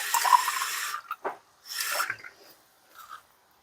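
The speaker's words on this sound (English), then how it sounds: "And I'm just going to top it up with the water." Tap water runs into a container of vinegar and lemon juice cleaning solution, filling it in two short splashing bursts with brief gaps and a few faint drips, close and alone.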